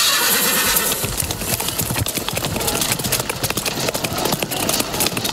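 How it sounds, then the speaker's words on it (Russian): Horses clop and one neighs loudly amid a clattering knight tournament, with dense hoofbeats and commotion throughout. "У Аргая ранен конь."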